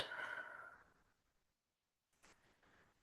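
A slow, deep breath out, a soft breathy exhale that fades over about a second into near silence, followed by a faint intake of breath, quiet and close.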